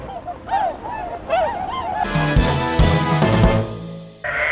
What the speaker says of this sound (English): The swans are expected to continue departing till the end of March.